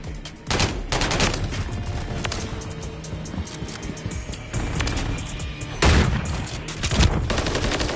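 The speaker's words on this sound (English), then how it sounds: "Taking effective fire." Call of Duty Modern Warfare 3 multiplayer battle on the Tanked map: loud, continuous bursts of automatic gunfire with sharp, heavy shots and impacts throughout, with a faint voice in the background.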